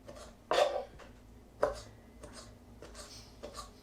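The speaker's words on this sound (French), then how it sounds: "Alors je coupe par l'intérieur, hein, la petite tomate." A small paring knife cuts through a small tomato on a board, giving a few sharp, close cuts spaced about a second apart over a quiet background.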